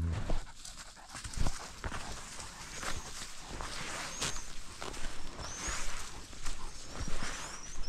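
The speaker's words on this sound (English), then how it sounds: "That's not a donkey, that's a dog." A dog pants rapidly and rhythmically close by, mixed with soft footsteps or paw shuffles and faint outdoor background sounds, fairly quiet throughout.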